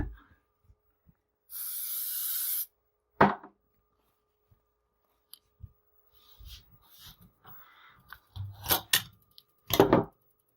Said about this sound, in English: I'm going to put a little spray adhesive on the back of my piece of twill fabric.